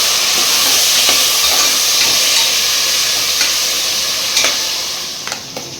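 Tomatoes and green chillies stir-fried for a gongura chicken pulao hiss in a loud, steady close sizzle, with occasional scrapes of the spatula, fading a little toward the end.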